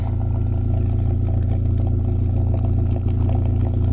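A BMW E46 coupe engine idles close up with a steady, slightly lumpy rumble and a faint clatter, alone and unchanging throughout.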